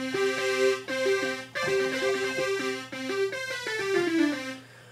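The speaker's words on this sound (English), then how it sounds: "A basic synthesizer sound," A simple analog-style synth patch plays a bouncy melodic phrase of repeated notes over a steady low drone, bright and buzzy, with no voices.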